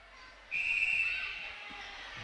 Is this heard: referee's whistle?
yes